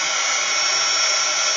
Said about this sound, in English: What I have is my heat gun, so I'm going to hold it a little bit further away